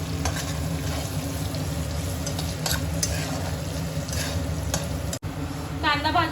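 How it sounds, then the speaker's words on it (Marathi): Chopped garlic and ginger frying in hot oil for Chinese rice, a steady close sizzle with a few scraping stirs and a brief clink near the end. "लसूण आणि अद्रक पण टाकूया जे आपण चॉप करून ठेवलंय चांगलं तेलामध्ये भाजून घेऊया"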